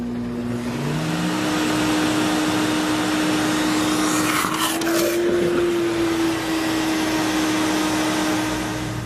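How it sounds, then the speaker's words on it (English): A Sirena vacuum cleaner runs as a wet pickup vac, a steady close motor drone with a strong hum whose pitch rises and falls as water is drawn in, loud and alone throughout. "The Sirena will also function as a wet pickup vac."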